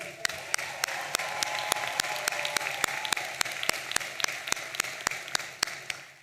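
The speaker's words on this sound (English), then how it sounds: "How about a round of applause for the families?" Crowd applause at a university commencement for graduates' families, steady dense clapping with one nearby clapper's sharp regular claps ringing out over it in an even beat, no voices.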